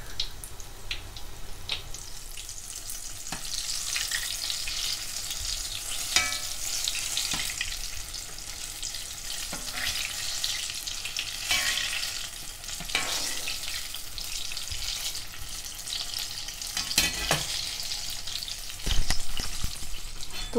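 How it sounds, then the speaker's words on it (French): Banana fritters sizzle and crackle steadily in hot frying oil, a continuous close hiss with occasional sharper pops and spatters, with no one speaking. "maintenant que j'ai retourné mes beignets, je viens les égoutter une première fois"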